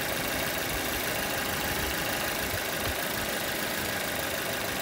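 A 2010 Chevrolet Cruze LTZ with a 1.6-litre engine and automatic gearbox idles very quietly, giving a faint, steady, even hum with no other sounds.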